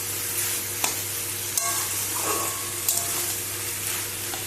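A spoon stirs cauliflower stalk curry (phulkopir data chochchori) in a pan over a steady, soft background sizzle. A few faint scrapes and clicks come through without any talking.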